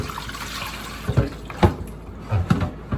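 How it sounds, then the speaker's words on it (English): Running tap water rinses sea moss in a sink, a steady broadband wash broken by several louder splashes and sloshes as the moss is handled, close and fairly loud with no talk. "Go ahead and kind of rinse it one more time"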